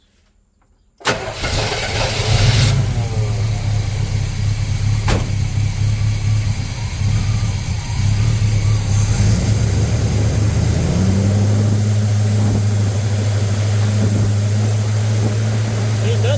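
An Avanti car engine with an intermittent misfire cranks and fires after a second of silence, then runs loud and steady at a rough idle for the rest of the clip, its low drone rising slightly in pitch near the end.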